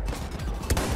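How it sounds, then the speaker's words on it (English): Enemy machine gun fire in the Battlefield 1 video game, a dense, close burst of rapid shots with one louder crack near the end. "Enemy machine gun."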